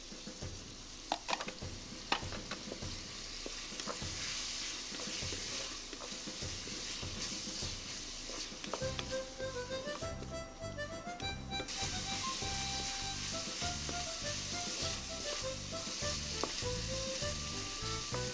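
Spring roll filling of bamboo shoots, bean sprouts and shrimp sizzles steadily in a hot pan, with rhythmic scraping and tapping of the spatula throughout while music plays along underneath.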